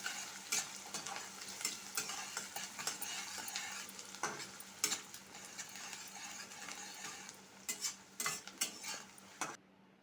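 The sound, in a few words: frying ginger, green chillies and onions in a pan for upma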